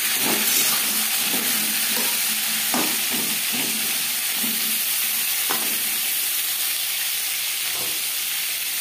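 Pointed gourd (potol) fries in a pan with turmeric and salt, a steady broadband sizzle running throughout, broken by irregular scraping thumps of a spatula stirring the pieces every second or so.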